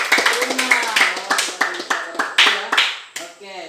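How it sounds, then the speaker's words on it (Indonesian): A small classroom group of junior high students claps for a classmate, a short run of light, uneven claps at close range, mixed with spoken voices. "Oke, tepuk tangan buat Teruna."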